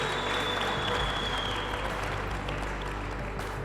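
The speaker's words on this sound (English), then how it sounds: "Let's give them a very big round of applause." Audience at a Cosafa football media launch applauding two football legends, a dense, steady burst of clapping from a crowd filling the whole moment.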